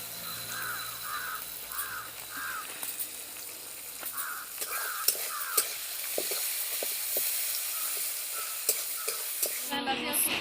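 Onion and dal fry in a pan outdoors, a steady moderate sizzle with occasional stirring clicks, while crows caw repeatedly in the background.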